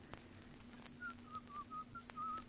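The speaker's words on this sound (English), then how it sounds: "stop whistling that turkey in the straw" Someone whistles a short run of Turkey in the Straw, a few quiet, clear notes in quick succession over faint background hum.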